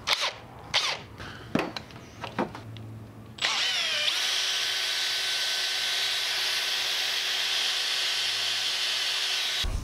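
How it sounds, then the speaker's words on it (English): A power drill with a regular twist bit bores a hole in oak, with plywood clamped on to limit tear-out. A few sharp knocks and handling sounds come first, then a loud, steady whining drone runs close and continuous for about six seconds. "So I usually just have to start the hole with a regular twist bit."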